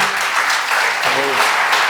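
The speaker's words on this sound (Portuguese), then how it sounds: "Vamos aplaudir Jesus." A church congregation applauds together in dense, steady clapping for about two seconds, with a voice briefly audible over the crowd noise.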